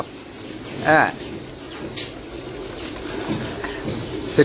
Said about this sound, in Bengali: এই ঘরের ভিতর কবুতর ঢুকছে